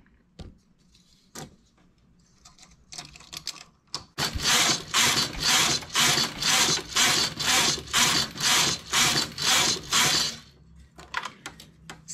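Domestic knitting machine carriage knitting rows for a child's sweater: a close run of rhythmic mechanical swooshing passes, roughly a dozen loud evenly spaced strokes, preceded and followed by faint clicks and handling of the machine, with no talk.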